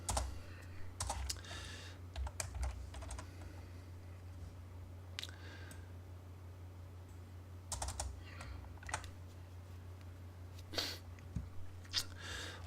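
Fingers type on a computer keyboard during AutoCAD drafting, with quiet bursts of clicking keystrokes separated by short pauses over a low steady hum.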